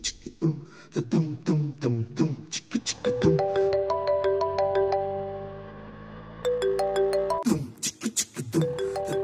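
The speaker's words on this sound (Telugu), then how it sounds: "గోపి ఈ టైంలో ఫోన్ చేస్తున్నాడేంటి?" A melodic electronic ringtone plays a repeating tune of bright tones, interrupted by short bursts of talking before and after.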